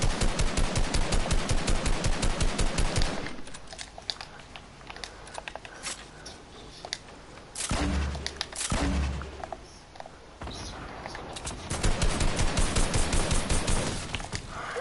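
Rapid automatic gunfire aimed at an enemy in a video game, long loud rhythmic bursts at the start and end with scattered shots and thuds between.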